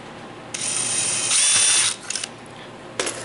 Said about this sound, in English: I'm going to just make a pilot hole with a smaller drill bit than the screw